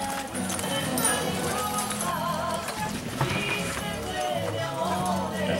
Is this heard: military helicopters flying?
no